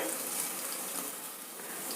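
Cumin seeds sizzling in hot oil for a tempering, alongside roasting chana dal, for pongal: a steady, close, bright crackling hiss that holds evenly throughout with no voices.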